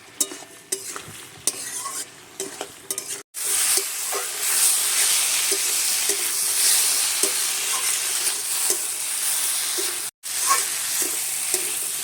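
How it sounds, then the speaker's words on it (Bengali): Cucumber and small fish curry sizzles steadily in a pan while being stir-fried, a loud continuous fry with scattered scraping knocks of the spatula, broken by two brief silent gaps. "এভাবে নেড়ে ছেড়ে আমি একটু কষিয়ে নেব।"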